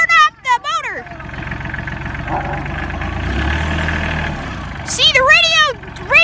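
A farm tractor's engine runs at a steady idle, a low rumbling drone with a brief rise in the middle, while people talk and a voice speaks over it.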